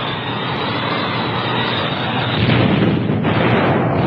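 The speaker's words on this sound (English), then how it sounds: "Stukas and Me-109s came to bomb Allied craft landing supplies in the harbor" Droning aircraft engines of WWII Stukas and Me-109s over a harbor during a bombing raid, a steady loud roar that swells toward the end, heard alone without speech.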